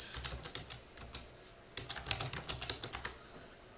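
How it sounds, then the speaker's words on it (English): Keys clatter on a computer keyboard while text is typed into an image editor, in quick irregular bursts of clicks with a pause midway, close and fairly faint. "here you just type it up here"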